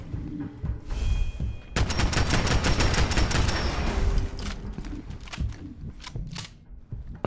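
Heavy bursts of gunfire in a Fallout 4 survival game, first a short volley, then a loud, dense rapid-fire stretch of shots with sharp cracks, easing into scattered booming single shots toward the end.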